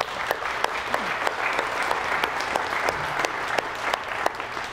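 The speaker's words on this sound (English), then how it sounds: "So a round of applause for Tesla staff." An audience at a Tesla START graduation celebration gives Tesla staff a full, steady round of applause, dense clapping lasting the whole stretch with no talk over it.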